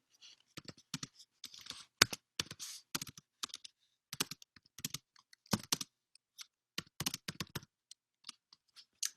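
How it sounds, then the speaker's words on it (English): Typing on a computer keyboard, with irregular bursts of crisp, close key clicks separated by brief pauses, heard alone without speech. "Let me write it in the chat so you can see what I'm doing."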